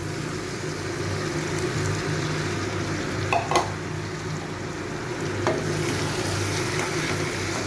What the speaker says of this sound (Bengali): পেঁয়াজটা ভাজা হয়ে গেছে, এবার আমি এই মাটনটা এর মধ্যে দিয়ে দেবো।